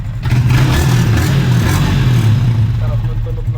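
A Yamaha Sniper 155 motorcycle engine, newly running again after a timing chain tensioner replacement, revs loudly and steadily up close throughout.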